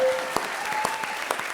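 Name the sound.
studio audience applauding on a comedy show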